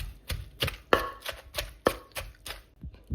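Ingredients for a Thai Northeastern canned-fish curry being pounded coarsely in a mortar, a steady series of about ten sharp thuds in an even rhythm, close and alone.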